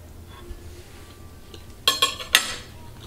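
Cutlery scrapes and clinks on a plate while a Dutch meatball (gehaktbal) is cut in half, with a few quick sharp metallic taps near the end after a quiet start.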